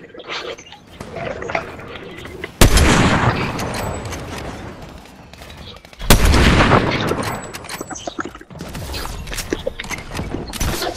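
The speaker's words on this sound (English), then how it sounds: "Oh God, I'm getting shot" Gunfire strikes the player in a Fortnite capture-the-flag match, with two heavy bursts of shots and impacts amid scattered smaller shots and game noise.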